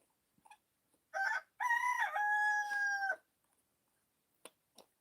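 A rooster named Clover crows once outside, a faint, distant drawn-out cock-a-doodle-doo in otherwise quiet surroundings, followed by a couple of soft clucks.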